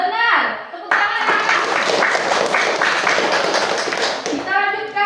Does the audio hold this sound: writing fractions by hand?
no